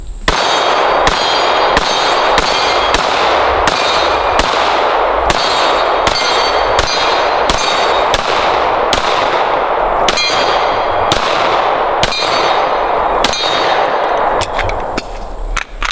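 Shots from an S&W M&P9 pistol at a shooting range ring out as about twenty sharp, loud reports at a slow, fairly even pace, each with a metallic clang, and no talk between them.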